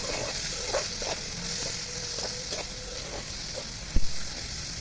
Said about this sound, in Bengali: ওই তেলে দারচিনি, তেজপাতা, এলাচি দিয়ে তার সাথে দিয়ে দিব পেঁয়াজ। এবার ভালোভাবে নাড়তে থাকবো